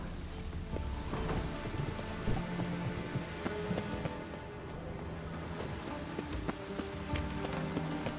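Steady rain patters across surfaces in Star Wars Jedi: Fallen Order, a continuous moderate hiss with scattered drop taps and low rumbling underneath.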